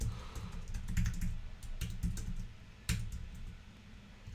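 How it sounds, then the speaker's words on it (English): Typing on a new computer keyboard, close irregular clicking keystrokes in short bursts with brief pauses between them, plus a few sharper isolated key presses. "I got a new keyboard, so please forgive me as I can't type right"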